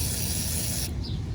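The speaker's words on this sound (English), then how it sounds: "WD-40 here, so that in the meantime when we work here, they get all the rust off from there" Aerosol can of WD-40 sprayed onto rusty screws during a 2010 Ford F-series wheel hub bearing job, a steady close hiss lasting about a second before cutting off abruptly.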